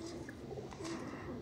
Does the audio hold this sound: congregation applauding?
no